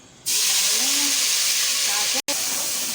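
Tomatoes dropped into hot oil in a cooking pot for spicy karahi chicken, a sudden loud sizzle and hiss that stays strong and steady, broken only by a momentary drop near the end.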